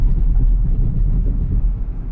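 A pickup truck drives over train tracks with a heavy, continuous low rumble and muffled thumps from the road surface, loud and close, without voices.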